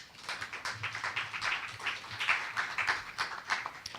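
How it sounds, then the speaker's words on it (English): A Sunday church congregation gives a round of applause, a soft, fairly distant patter of many hands clapping steadily for several seconds with no talk over it. "Give yourselves a round of applause."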